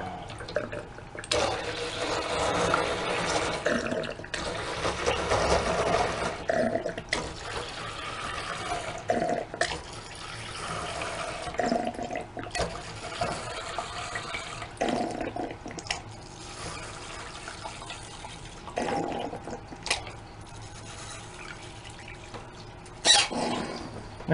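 Water runs steadily into a tarantula incubator container, a broad rushing flow with brief pauses and splashy surges, fairly close and continuous.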